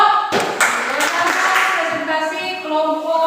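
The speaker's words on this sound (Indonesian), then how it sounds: "Tepuk tangan untuk kelompok." Students in a classroom clap for a presenting group, a short burst of applause with a voice and room noise mixed in, fairly close and moderately loud.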